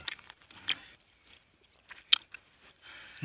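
Chewing spicy Thai fish salad (koi pla), soft wet bites and a couple of sharp crunches close to the microphone, quiet between chews.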